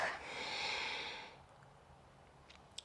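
A single long exhalation during back and spine exercise, breathy and close, then fading into quiet room tone with faint clicks.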